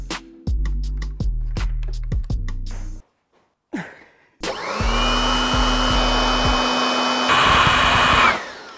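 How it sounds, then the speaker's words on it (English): An old household hairdryer switches on and off in short bursts, then runs with a loud, steady whirring drone at close range, with a brief pause in the middle. "My nan's hairdryer, bro."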